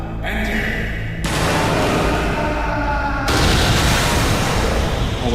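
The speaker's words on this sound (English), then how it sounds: "A loud explosion was reported at the mines this morning." Heavy booming blasts from an explosion at a mine roar in successive waves, loud and rumbling, with a sharp change in texture partway through as the noise surges again.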